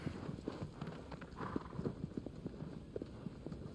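A horse galloping in the video game Shadow of the Colossus, a steady rhythmic run of hoofbeats at moderate loudness with a faint background hum.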